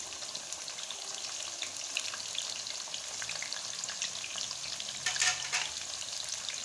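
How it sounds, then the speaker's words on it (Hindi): Potatoes fry in a karahi with a steady bright sizzle and fine crackling, close and even, with a brief louder bubbling burst toward the end. "साथ साथ जो है आलू फ्राई हो रहे हैं।"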